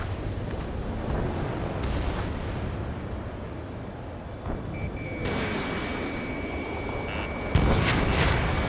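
Heavy artillery fire and battle rumble from the air combat game Ace Combat 7, a dense, continuous low roar with a sharp blast near the end and a thin electronic tone running underneath.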